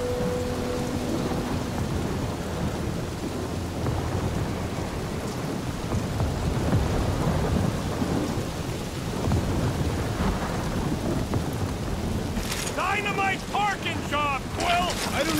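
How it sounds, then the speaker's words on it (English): Heavy rain and rolling thunder from a storm in the video game Marvel's Guardians of the Galaxy form a loud, dense roar, with a burst of chirpy, warbling game sounds near the end. "That is some really crazy lightning out there!"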